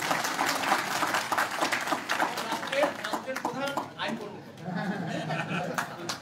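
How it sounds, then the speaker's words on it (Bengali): A crowd at a Supreme Court Bar Association seminar claps loudly for its president, a dense, continuous patter of applause mixed with murmuring voices and talk. "আপনারা একটা জোরে হাত তালি দেন আমাদের সম্মানিত সভাপতির জন্য"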